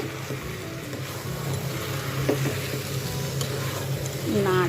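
Ground spice paste and the water used to rinse it hit a pan of mixed winter vegetables, giving a steady close sizzle with stirring scrapes and a brief bubbling rise at the end.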